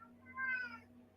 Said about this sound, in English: That was Grumpy, if you heard him